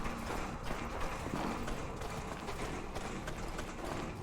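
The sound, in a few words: horse hooves clip-clopping in the video game Mordhau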